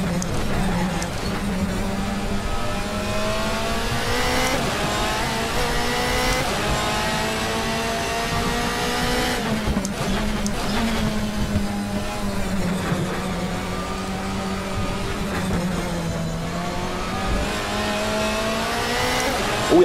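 A DTM race car on a qualifying lap at the Lausitzring in a racing video game, the engine screaming continuously and climbing through gears with brief drops at shifts, occasional tire squeal, steady and loud throughout.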